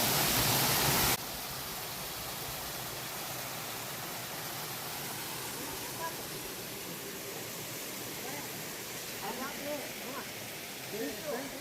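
A waterfall roars steadily and evenly throughout, a broad continuous rush that is louder in the first second, with faint voices emerging over it near the end.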